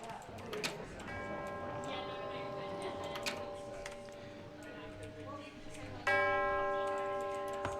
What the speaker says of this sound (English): every time the bell rings, it spawns these platforms